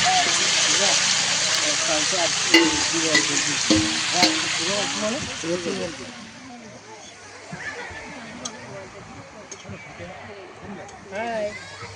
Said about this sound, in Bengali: এখানে আমাদের পকোড়া ভাজা হচ্ছে, বাঁধাকপির পকোড়া।